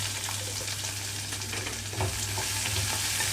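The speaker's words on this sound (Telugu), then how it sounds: "కట్ చేసి పెట్టుకున్న ఉల్లిపాయలు అలాగే పచ్చిమిరపకాయలు వేస్తున్నాము" Onions and green chillies hit hot oil in a pan, giving a dense, constant sizzle with a low steady hum beneath, close and even throughout, no talking.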